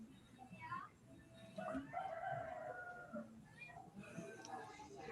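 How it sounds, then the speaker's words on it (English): A rooster crows in the background at a country home, faint and distant, its drawn-out calls partly masked by nearby conversation. "I can hear the chickens in the background. That'd be Heye the rooster."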